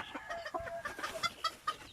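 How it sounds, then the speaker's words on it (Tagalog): Rhode Island Red roosters and heritage free-range chickens cluck in quick, overlapping bursts at close range, with no talk over them. "Yung mga Rhode Island Red na mga rooster po namin yan."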